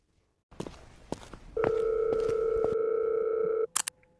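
An unanswered phone call rings: after a few close footsteps and handling noises, a single loud, steady electronic ring tone holds for about two seconds and then cuts off.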